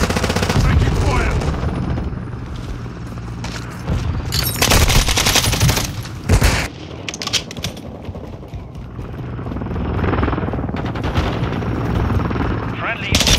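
Heavy automatic gunfire in Call of Duty Modern Warfare 2 multiplayer with an MP7, loud, close rattling bursts and sustained volleys across the whole stretch, with in-game radio voices calling out between and over the shooting.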